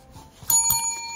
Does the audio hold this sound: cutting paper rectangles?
no